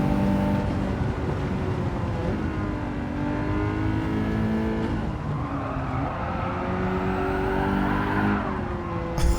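A race car in Forza Motorsport drives hard with a sustained engine drone, rising and falling as it revs and shifts, and tire squeal mixed in. The car stays close and loud throughout, with no talking.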